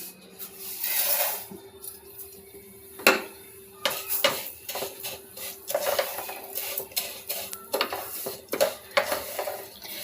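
Vermicelli frying and being stirred in a pan, with scattered clinks and scrapes of a utensil against metal, irregular and moderately close, without speech.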